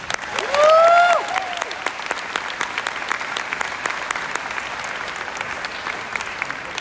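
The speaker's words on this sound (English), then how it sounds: "So I'd like y'all to give yourselves a round of applause." Audience applause for nurses, a broad steady clapping from a crowd that starts loud with a brief whistle early on, then carries on evenly to the end.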